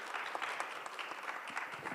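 An audience claps steadily, a soft, even patter of applause heard from a distance, welcoming a speaker at a forum session in Jeju.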